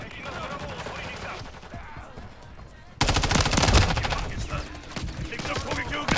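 Enemy gunfire in Call of Duty Modern Warfare III multiplayer: a quieter stretch of distant shots gives way to loud, dense automatic bursts and rapid volleys that keep rattling on.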